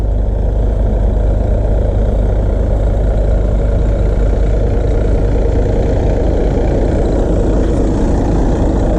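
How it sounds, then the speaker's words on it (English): A heavy Case 1070 tractor engine idles steadily and loudly, a constant low rumble that stays even throughout with no voices. "I got it running, just sitting there idling."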